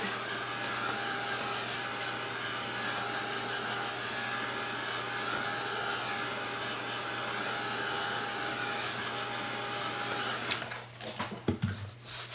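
A hair dryer blows steadily on a painted canvas, a constant close whirring hum with a tonal whine, then switches off near the end, followed by a few brief handling clatters.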